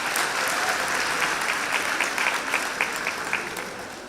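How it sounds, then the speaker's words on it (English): Graduates at a college graduation and diploma ceremony applaud their families, a dense, loud and sustained wave of clapping from a large crowd filling a hall. "I'd like to ask the graduates just to applaud our parents, our guardians, and our families for the support they provided."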